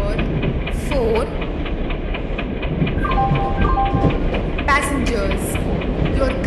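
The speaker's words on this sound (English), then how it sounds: "Train number 1 Goods Express is arriving at platform number 4." A goods express train pulls into a platform in the Indian Train Simulator game, wheels clacking in a steady rhythm under a continuous rumble, with faint horn-like tones and a few sharp clicks.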